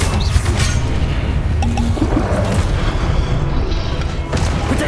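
Confringo blasting spell explosions in Hogwarts Legacy, a dense continuous barrage of booming blasts and crashing impacts, loud and close throughout with no gaps.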